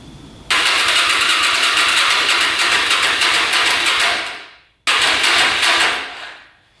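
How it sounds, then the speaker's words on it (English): A Suzuki LTZ 400 with a flooding problem, running on gravity-fed fuel, is started. A loud, close engine roar runs about four seconds, then fades out. A second, shorter burst follows and also dies away. "So we're gonna gravity feed it, see what happens next."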